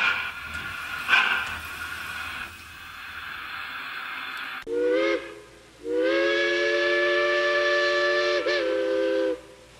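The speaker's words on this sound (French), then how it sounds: "Et ça démarre ma locomotive." A model steam locomotive starts up with a hissing chuff of steam, then gives two whistle blasts, a short one followed by a long sustained steam whistle that cuts off sharply.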